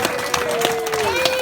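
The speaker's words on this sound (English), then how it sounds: "Can we have one more round of applause for that absolutely stunning bride" Wedding guests clap for the bride during a best man speech, scattered sharp claps building into steady applause while a tone hums underneath.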